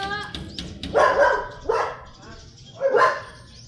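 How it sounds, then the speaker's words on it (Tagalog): A dog barks three times at a moderate distance, short sharp barks spaced about a second apart, with faint background noise. "May aso."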